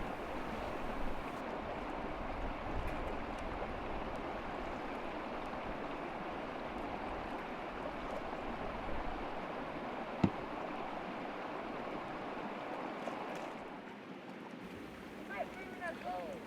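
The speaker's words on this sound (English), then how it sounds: "It's all poured into the gold pan, ready for rinsing and sorting." Water rinses gold-panning slurry in a pan outdoors in Perthshire, a steady, continuous wash of running, splashing water that carries on unbroken and fairly close throughout.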